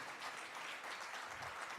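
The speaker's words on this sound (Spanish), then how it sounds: "Damos un fuerte aplauso a nuestros hermanos." A church congregation breaks into a short burst of applause, a dense, steady patter of clapping heard fairly faintly with no talk.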